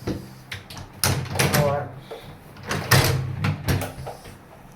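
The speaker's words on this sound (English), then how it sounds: "Now the last step, fix the drawers." Drawers being fitted into an IKEA Malm desk, with repeated close wooden knocks, slides and thumps mixed with a person talking.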